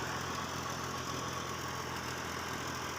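Fiat 480 tractor from 1991, fitted with a 54 cutter rotavator, running at a steady idle with an even, continuous mechanical drone and no breaks, heard alone.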